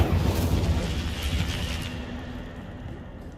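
A fiery spell blast erupts in the Hogwarts Legacy video game, a loud booming burst that rolls out with crackling noise and slowly fades over a few seconds.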